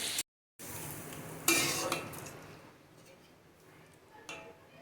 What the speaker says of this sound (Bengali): এবারে কিছু নেড়ে চেড়ে কষিয়ে নিতে হবে।